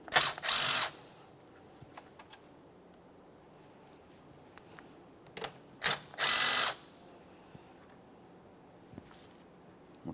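10mm bolts being removed from the upper plastic fan shroud panel of a 2014-2018 Toyota Corolla, with short bursts of a power driver or ratchet whirring, separated by quiet gaps and faint clicks.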